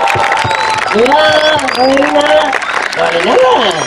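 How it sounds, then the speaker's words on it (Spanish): Hands clap in a scattered burst while voices call out loudly over it, a lively crowd close by at an event in Mar del Plata. "aplauso para la señorita de Mar del Plata"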